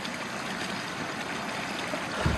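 A river in eastern Tennessee flows in a steady, broadband rush and gurgle, close and continuous, with a brief low thump near the end and no voices.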